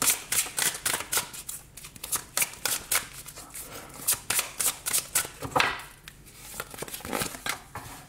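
Tarot cards are shuffled for a reading in a rapid run of crisp riffling snaps and papery slides, close and fairly loud, pausing briefly now and then, with no talking.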